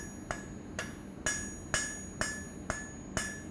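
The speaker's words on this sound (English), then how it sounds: "I like to just give it a couple taps to get it just started with the flat of the" Seven evenly spaced taps with the flat of a hammer ring sharply on metal while forging a leaf hook, each strike leaving a brief bright ring, close and fairly quiet.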